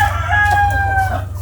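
Backyard egg-laying chickens clucking close by while a rooster crows in a drawn-out call, loud and continuous over a low rhythmic hum.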